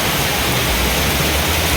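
Water pours steadily from a height at a waterfall in Konkan, a dense, continuous broadband roar filling the short moment close up, with no voices.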